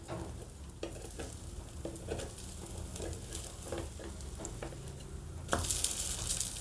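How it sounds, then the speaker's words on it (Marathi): Beetroot idli roasting in a pan: a steady, close sizzle with scraping and stirring noises as the pieces are turned, swelling into a louder, brighter hiss near the end. "आता आपण याला शेकून घेऊया, नंतर असं पलटून घ्यायचं आहे।"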